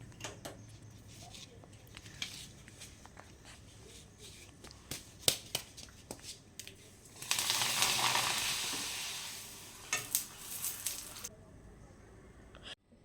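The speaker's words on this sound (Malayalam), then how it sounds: "ഇനി നമുക്ക് പപ്പടം ഒന്ന് പൊരിച്ചെടുക്കാം" Pappadam frying in hot oil for a home-cooked lunch, a bright sizzling hiss swelling midway and easing off, with scattered clicks and light kitchen clatter around it.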